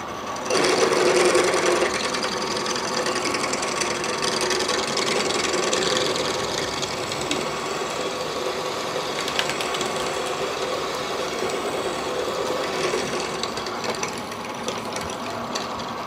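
A cheap half-inch power drill runs continuously with a steady mechanical whir and faint rattling, close and fairly loud throughout, no talking.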